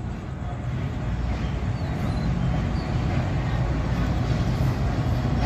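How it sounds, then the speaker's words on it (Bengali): A train pulls into platform 2 at Rajshahi railway station, a steady low rumble of wheels and engine filling the scene at moderate loudness, with faint background noise of the station around it. "এই ট্রেনটা কিন্তু রাজশাহী রেল স্টেশনে প্রবেশ করছে 2 নাম্বার প্ল্যাটফর্মে"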